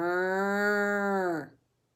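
A cow moos in one long, steady call lasting about a second and a half, loud and close, then cuts off into silence.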